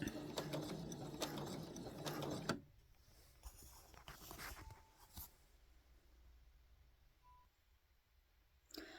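Home sewing machine stitching down the folded edge of a fabric neckline for a summer sewing project, a steady close whir for about two and a half seconds that stops abruptly, then faint handling clicks in a quiet room.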